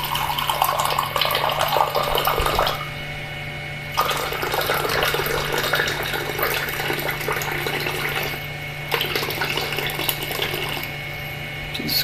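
Hot water from an AO Smith water heater gushing out in a steady, loud rush, broken by two brief dips, with a constant low hum running beneath and no talking.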